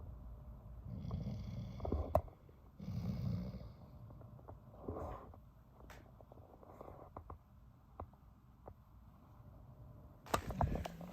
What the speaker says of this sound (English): Guys, do you hear him snoring?